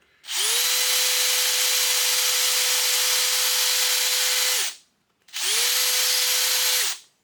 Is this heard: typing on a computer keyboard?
no